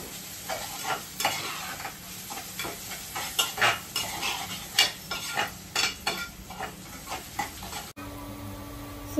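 Spices and oregano being stirred in a hot cooking pan, a steady run of scraping spoon strokes over a soft sizzle, close and moderately loud, ending abruptly in a brief quieter stretch.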